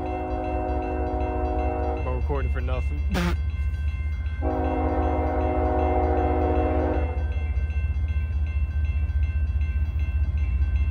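A heavy train with eight locomotives rolls past in Muncie with a constant low rumble while its horn sounds a couple of blasts; someone speaks briefly over it.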